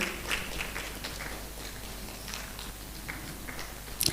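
A crowd applauds steadily for several seconds, a dense patter of many hands clapping at moderate volume from a mid-distance.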